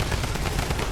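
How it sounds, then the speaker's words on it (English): Drum guns in a video game fire a dense, rapid burst of gunfire that runs the whole moment without a break, loud and close. "The sound of the devastating drum guns going off is ridiculous."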